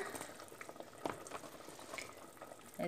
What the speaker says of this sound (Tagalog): yan na kumukulo na ang ating sitaw